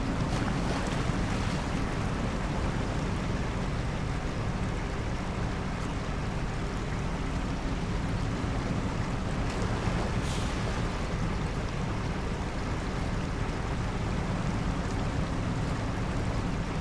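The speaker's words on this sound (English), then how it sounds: "I tend to cut off to the side here because that decking bit of water is quite deep." A truck in the SnowRunner video game pushes through deep water in lowland terrain, making a steady, loud wash of churning water and engine rumble that continues unbroken throughout with no talking.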